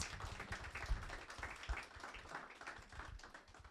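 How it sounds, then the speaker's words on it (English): Quiet applause from an audience for students at a performance of African-American history monologues, a soft, continuous wash of clapping heard at a distance for several seconds. "a round of applause for our talented students."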